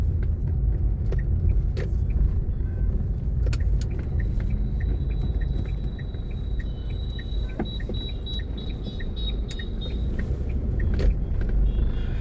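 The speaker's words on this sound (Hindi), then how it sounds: "सड़क पे हल्का फुल्का ट्रैफिक एज यूजुअल होना भी चाहिए यार" Light road traffic rumbling steadily past, a continuous broadband drone with occasional brief clicks and a faint high whine from a passing vehicle, moderately near, no voices.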